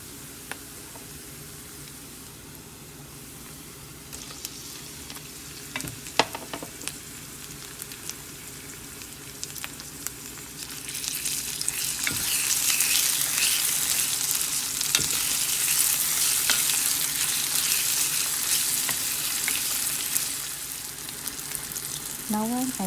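Dry red chilies frying in oil for a Sri Lankan dhal curry, then chopped tomatoes added, giving a quiet sizzle that swells into a loud, steady hiss partway through, with occasional stirring clinks.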